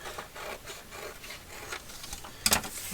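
Paper being trimmed for a handmade ephemera envelope, a steady close rasping and rubbing of blade on paper in repeated strokes, ending with a sharper crisp snip, no talk.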